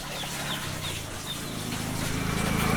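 A flock of Sonali chickens on a poultry farm under a leaf-thatched roof gives off a steady, crowded clucking murmur over a low rumble, growing slightly louder toward the end.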